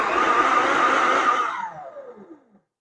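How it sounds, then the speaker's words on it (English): A food processor pulses chilled, creamy butter into tart dough for a tomato ricotta tart: a steady, close motor whir for about a second and a half, then a gradual spin-down as the blade slows and stops. "I'll just keep adding my butter, pulsing it a little bit."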